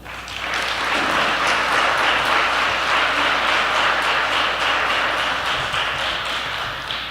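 A lecture audience in San Francisco applauds as a speaker comes to the podium, dense steady clapping swelling quickly and holding loud throughout before easing slightly at the end.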